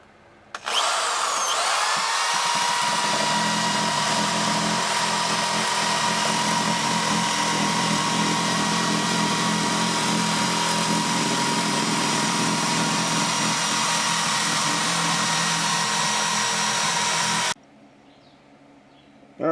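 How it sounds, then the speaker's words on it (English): A small drum sander with a 50-grit drum grinds material off the fiberglass transom of a 1990 Bayliner Capri boat: a loud, steady, continuous high-pitched whir that runs unbroken for about seventeen seconds before cutting off. "this little drum sander is sanding all that stuff off"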